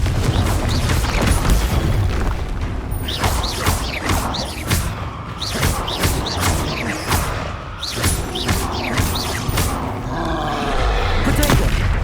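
Confringo blasting spells fire repeatedly in the game Hogwarts Legacy, producing a chaotic series of sharp, loud explosive bursts and booms over a rumbling battle backdrop.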